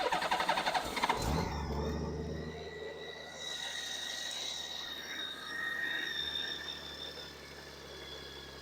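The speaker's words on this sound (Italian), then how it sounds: "a quanto pare il motore gira bene" A Honda Goldwing motorcycle engine cranks and catches with a burst of noise after new spark plugs, then settles into a steady idle hum with a whining tone over it, close by.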